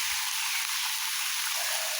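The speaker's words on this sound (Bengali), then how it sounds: "ও এটা মোটরের জল পড়ে, সাবমার্সিবল ছাড়ছিল সকালে।" Water from a submersible pump outlet pours down in a continuous, even rush of splashing hiss, steady throughout.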